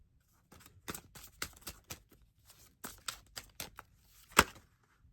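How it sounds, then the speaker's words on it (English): A deck of tarot cards is shuffled by hand in quick papery riffles and slaps, close and soft, in uneven bursts with a sharper snap near the end. "So I'm going to keep shuffling."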